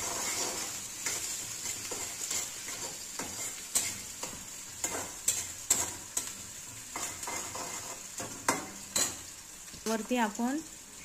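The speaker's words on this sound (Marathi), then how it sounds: "हिरवी मिरची पण चांगली आपण तेलामध्ये होऊ देणार आहोत।" Green chillies fry in oil with a steady sizzle while a spoon stirs and scrapes the pan in irregular bursts, close by, with a brief squeaky chirp near the end.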